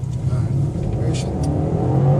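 A 2014 BMW X5 accelerates hard, its engine a deep, steady, rising drone heard from inside the cabin, loud and close, with someone talking over it.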